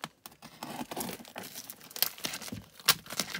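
Close, crackly ripping and crinkling of packing tape being pulled off a parcel, with sharp tearing bursts over continuous rustling, no talking.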